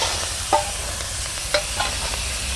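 Shrimp fry in hot oil with mustard seed tempering, giving a steady close sizzle with a few sharp pops and stirring scrapes.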